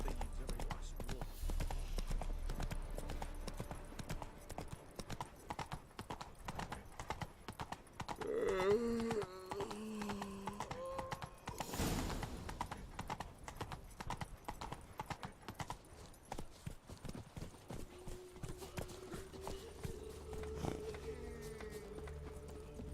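Horse hooves clip-clop steadily along in The Witcher 3, a fast rhythmic stream of hoofbeats with a brief whinny midway, mixed with game sound effects and occasional voices.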